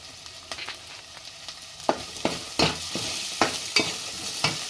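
Curry leaves and turmeric sizzle in hot oil in a pan for fish curry, a steady close hiss punctuated by rhythmic scraping strokes of a stirring spoon, fairly loud and without talking.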